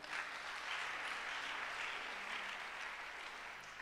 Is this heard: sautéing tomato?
no